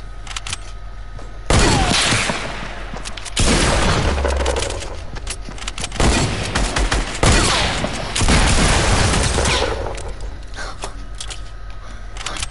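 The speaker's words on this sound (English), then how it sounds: "Getting my hunting rifle." Rifle fire in a video game, heard as several loud, booming bursts spread across the clip with rattling, clattering noise between them and no talk.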